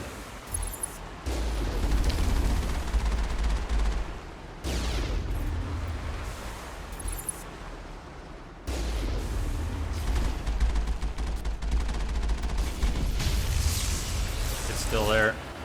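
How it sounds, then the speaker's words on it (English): Heavy artillery fire in the video game Mass Effect: repeated deep booming blasts with rumbling, loud and sustained, broken by brief quieter gaps, under game dialogue and a speaking voice. "We must find a way to disable their artillery."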